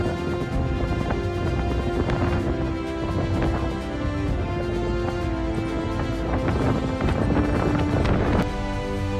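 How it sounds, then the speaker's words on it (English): Strong wind on the Isle of Wight buffets the microphone in continuous heavy gusts, a constant roaring rumble with occasional thumps and no talking. "It's pretty windy here as well. That's why you can hear the wind a lot."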